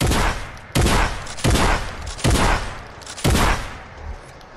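Shotgun blasts in a video game, fired in a quick double-pump style: five loud, booming shots spaced roughly evenly, each with a short decaying tail.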